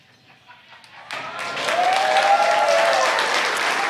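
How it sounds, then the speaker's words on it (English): Crowd at Kennedy Space Center cheering and applauding after a Falcon 9 first stage lands, starting near silence and then swelling into sustained loud cheers with a few whoops rising over the noise. "hear the cheering behind me."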